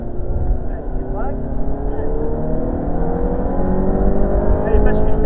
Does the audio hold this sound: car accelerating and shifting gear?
yes